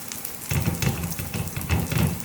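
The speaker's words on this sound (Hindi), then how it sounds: "4 कबाब हमने शामिल कर दिए तवे के ऊपर। मीडियम फ्लेम पर फ्राई हो रहे हैं।" Chicken kebabs fry on a flat tawa over a medium flame, giving a steady close sizzle with low bubbling pulses that swell and ease throughout, no voices.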